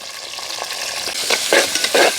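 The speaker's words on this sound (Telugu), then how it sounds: "ఎర్రగడ్డని దోరగా వేయిస్తున్నాం" Chopped onion pieces fry in hot oil with mustard seeds, fenugreek, cumin and curry leaves, a loud close sizzle with scraping stirs that swell toward the end.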